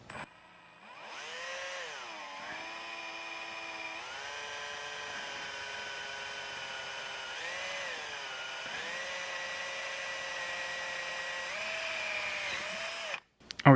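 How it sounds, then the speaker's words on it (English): A power drill boring through an aluminum trim piece and an RV wall into aluminum framework, a loud steady whine with pitch dips as the bit bites, running close for over ten seconds before stopping abruptly. "Drill through the outer trim piece, through the wall, and then I'm hitting a piece of the aluminum framework."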